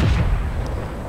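A Japanese tank's main gun fires in the World of Tanks video game, one heavy, low booming blast that fills the short moment and rumbles briefly before fading.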